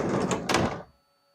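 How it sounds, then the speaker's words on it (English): The door of a Haas CM1P tool room mill with a 7.5 horsepower spindle is slid shut in a metal shop, a single loud close lasting under a second, then quiet with a faint machine hum. "We'll close the door."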